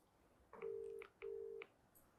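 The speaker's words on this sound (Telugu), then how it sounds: "అసలు ఎత్తాలిగా ఫోన్." A telephone ringback tone plays two long, even beeps while a call waits for pickup, clear and isolated against a quiet background.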